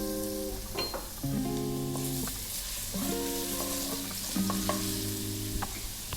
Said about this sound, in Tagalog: Mag-i-start na po tayong mag-gisa. Lalagay ko na yung ating ginger.